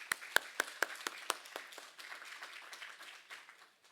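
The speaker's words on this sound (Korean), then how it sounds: "우리 하나님께 다 같이 영광의 박수 올려드리시겠습니다" Church congregation applauding during a Korean Sunday worship service in Hawaii: several sharp, close claps at the start, then a thinner spread of scattered clapping that fades out, with no talking.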